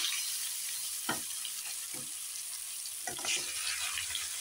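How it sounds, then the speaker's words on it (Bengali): Fish pieces fry in the oil left from frying potatoes, giving a steady close hiss of sizzling with a few soft spatula scrapes and clinks. "দেখো 4 পিস করে এখন ভেজে নেব"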